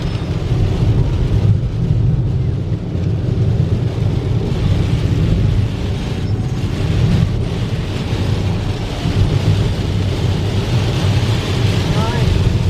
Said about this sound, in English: That rain is really strong right now.